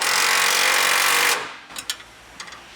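A power tool drives bolts down on a catalytic converter shield on a Toyota Tacoma, giving a loud steady whir for over a second, then stopping, followed by a few faint metallic clicks.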